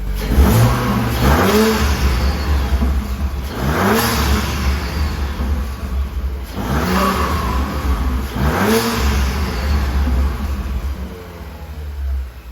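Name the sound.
sports car engine revving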